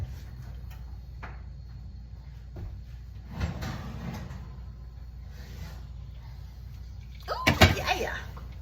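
An oven door swings open and a pot being pulled out clanks and rattles near the end, after a quiet stretch of soft kitchen handling noises.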